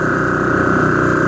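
Air pumps on a 1966 Ford F100 run steadily with a constant loud mechanical hum and a fast pulsing buzz, no pauses.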